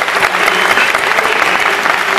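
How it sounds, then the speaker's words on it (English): An audience at a fan Q&A event claps for a man who asked a question, a dense, steady wash of applause close and loud, holding evenly throughout. "Give that man a round of applause."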